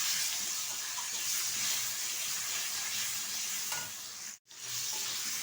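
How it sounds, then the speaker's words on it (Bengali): Mutton frying with salt, spices and chopped tomato, a steady close sizzle with faint stirring scrapes, one brief drop in the middle. "একটু কষিয়ে নেব।"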